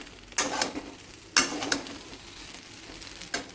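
Mixed vegetables lightly frying in a pan for dalia khichdi: a soft, steady sizzle with three or four distinct scraping stirs of a spoon against the pan, close and moderate in volume, with no talk.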